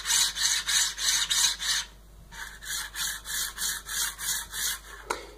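RobotDigg linear rail carriages slide back and forth along their rails, giving a harsh, rasping scrape in steady repeated strokes, about a dozen passes up close with no talking.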